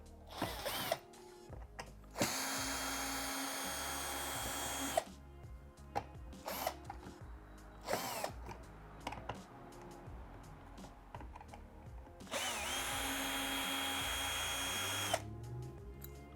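Screws being driven out of a Samsung washing machine panel with a power drill, two long whirring bursts plus shorter clicks and handling noises between them, close and fairly quiet.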